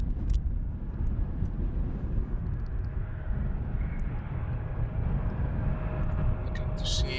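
A jet aircraft rumbles steadily at Amsterdam Schiphol Airport, likely the Embraer taxiing, with a continuous low broadband roar and wind buffeting, fairly loud and unbroken throughout.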